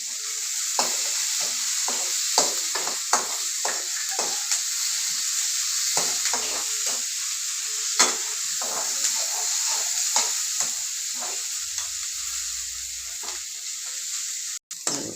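Garlic, chili and onions sizzle in a hot pan for a goat blood fry, a steady hiss running the whole time. Frequent short scrapes and knocks from stirring punctuate it, and no one speaks.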